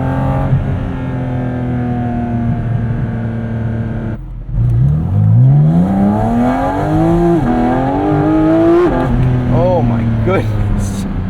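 A 2023 Porsche 718 Cayman GT4 RS engine revs hard while driving. A loud droning note dips, then climbs steadily through a long rising sweep and holds high, with a brief shift-like break and further revs near the end.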